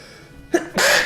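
A single sharp sneeze from a man playing Hearthstone, a quick intake followed by a loud, bright burst, heard close and on its own.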